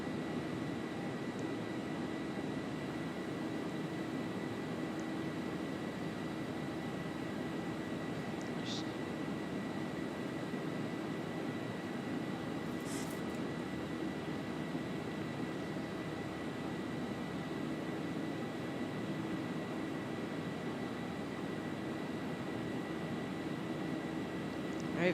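A Boeing 737-800 climbs in a flight simulator game, giving a steady, even engine and airflow hum that holds unchanged throughout, with only a couple of faint brief clicks.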